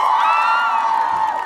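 Festival crowd at the Yangju Rock Festival roaring on cue, a loud, sustained mass cheer of many voices held steady before tapering off.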